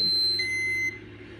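An enteral feeding pump sounding its no-flow alarm while starting a G-tube feed: a short, clear electronic beep tone, faint and close, over a quiet background hum.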